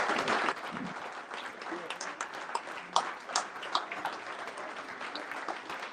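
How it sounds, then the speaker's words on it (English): An audience at an end-of-year fundraiser applauds the board members as they stand, a soft, fairly distant patter of clapping with a few louder claps and voices murmuring underneath. "please let's give them a huge round of applause"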